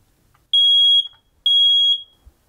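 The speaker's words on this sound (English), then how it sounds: "Just press and hold this button until the alarm sounds." A household smoke alarm gives two loud, piercing high beeps while its test button is held down, each about half a second long with short silences between them, and no voices.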